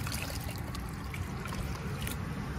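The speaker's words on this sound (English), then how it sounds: "I like to use the narrow mouth of the watering can so you could just water it" Water trickling from the narrow spout of a watering can into the soil of a potted bare-root rose, a steady soft splashing stream heard close up without speech.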